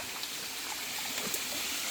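A natural waterfall in a Kanchanaburi forest pours with a steady, even rushing hiss, constant and moderately close, with no voices.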